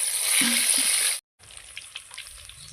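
Chilli bajji, battered green chillies, frying in hot oil make a close, hissing sizzle that cuts out briefly and returns softer with faint bubbling.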